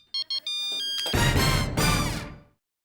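A mobile phone rings indoors, opening with short electronic beeps and then a loud melodic ringtone that plays in two bursts before cutting off.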